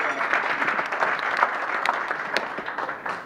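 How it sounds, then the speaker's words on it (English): Audience applause fills a room at a Rotary club meeting, a dense, steady patter of many hands clapping at moderate loudness for the full stretch. "Let's give him a round of applause."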